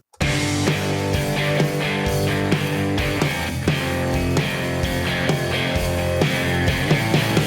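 A full rock drum kit recorded at a house, played in a steady groove, with a boomy, roomy and unpolished sound; the kick, snare and cymbals run continuously with no talking.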